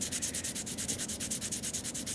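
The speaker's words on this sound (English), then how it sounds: "I gotta do that with some sandpaper." Steady, rhythmic rasp of sandpaper scraping back and forth over a small handmade crochet hook, close and continuous with even strokes.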